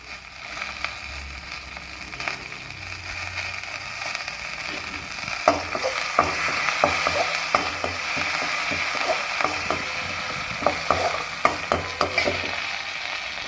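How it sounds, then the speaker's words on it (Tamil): Mustard seeds, urad dal and chana dal fry in oil in a hot kadai, with a low hiss that builds into dense, rapid crackling and popping from the seeds, close and loud. "கடாய் காஞ்சதும் கடுகு, உளுந்து, கடலைப்பருப்பு சேர்த்துக்கலாம்."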